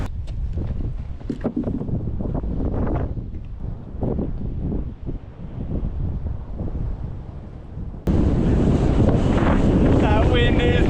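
Strong coastal wind batters the microphone in a loud, continuous roar, with bursts of speech half-buried under the gusts before the rush grows harsher and brighter near the end.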